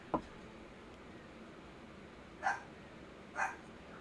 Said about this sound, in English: Why is my dog's crying? Or barking, excuse me.